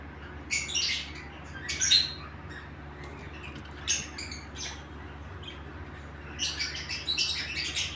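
Scattered bursts of high chirps and squawks from small birds, some close and some softer, over a steady low background hum.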